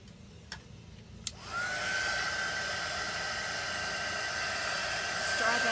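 After a couple of faint clicks, a hair dryer switches on to dry an eggshell craft piece and keeps up a loud, steady whooshing roar with a thin whine to the end.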